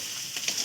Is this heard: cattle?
no